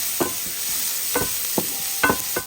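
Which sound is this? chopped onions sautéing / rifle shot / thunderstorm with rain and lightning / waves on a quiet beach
chopped onions sautéing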